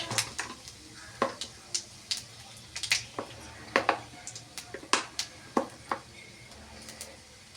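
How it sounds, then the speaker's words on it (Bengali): Panch phoron whole spices crackle and sizzle in hot oil in a pan, with sharp irregular pops and spits over a low steady hiss, close and clear. "এবার আমি গোটা কয়েক পাঁচফোড়ন দিয়ে দিলাম।"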